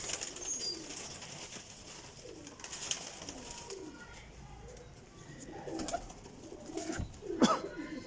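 Pigeons, a flock of black-and-white flying birds, coo and call softly over a steady background hum, with scattered chirps and a brief louder flutter near the end.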